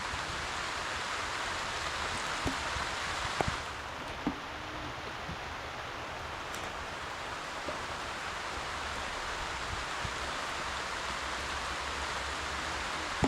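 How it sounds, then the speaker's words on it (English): Steady rain falls outdoors as a continuous broadband hiss, with a few faint knocks and thumps scattered through it and no talking. "Guys, the rain is raining here."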